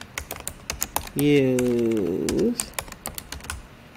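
Fingers tap quickly on a computer keyboard, giving a close, crisp run of clicks that goes on throughout. Midway, a brief voiced sound rises over the clicking.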